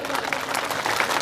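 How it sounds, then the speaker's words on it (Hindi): A short burst of crowd applause, dense and steady clapping from many hands, with voices mixed faintly underneath. "खालिद साहब की गुफ्तगू आपको पसंद आई है तो तालियां बजा दें।"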